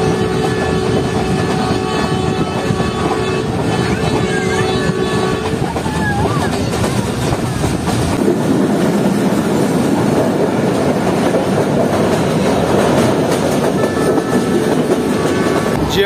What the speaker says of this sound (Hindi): हमारी ट्रेन जो है पूरे 2:55 पर मूव होना शुरू हो चुकी है